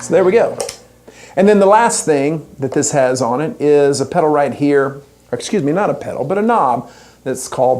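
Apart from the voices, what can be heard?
None of the usual background noises is heard.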